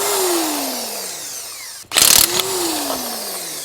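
A cordless power impact tool briefly buzzes as it drives lug nuts onto a wheel, in one short burst amid steady background whirring from a running engine nearby.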